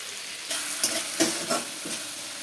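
Spices tempering in hot oil for a vegetarian ghugni give a steady sizzle, broken by a few soft scrapes and taps of a stirring spoon in the pan.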